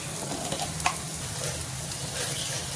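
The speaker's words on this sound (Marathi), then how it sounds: "त्याला आता परतून घेऊया गरम मसाला ॲड करते" Spiced food with garam masala being sautéed in a pan: a steady sizzle with light stirring scrapes and a few soft clicks, close and continuous.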